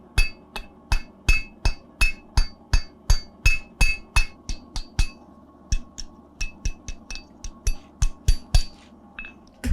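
A blacksmith hammers a forged iron candle holder socket on an anvil, about twenty sharp ringing blows in a steady rhythm, close and clear.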